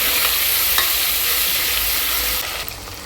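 Mint and coriander paste stirred as it fries in a pan, a steady close sizzle with soft scraping strokes running throughout, easing slightly near the end.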